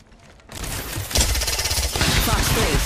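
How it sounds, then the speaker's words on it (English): Dense, rapid gunfire in a shooter video game, building from a quieter start into a loud, continuous volley of overlapping shots. "Being shot at."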